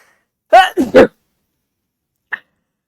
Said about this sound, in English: nobody wants to listen to me sneeze into my mic